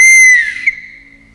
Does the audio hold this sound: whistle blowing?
yes